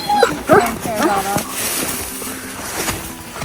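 A dog barks and yips a few times in quick, high bursts near the start, then whimpers softly as people talk over it.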